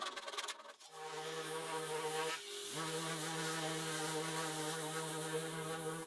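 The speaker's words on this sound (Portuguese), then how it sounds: "pude serrar as cabeças deles e lixar tudo até ficar liso" Sanding wood smooth on a workbench after sawing off dowel heads, a steady rasping rub with a droning machine-like tone that runs continuously and fairly close, with a brief break partway through.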